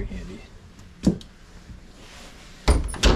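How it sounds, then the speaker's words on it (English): Slide-out pantry drawers in a 2018 Grand Design Momentum 376TH RV are pulled open. Two soft knocks and a pair of louder, close sliding thuds near the end come under quiet talk. "You got some slide out drawers."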